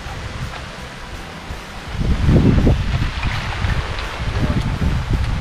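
Wind gusts buffet the microphone, a low roaring rush that strengthens midway and keeps blowing steadily.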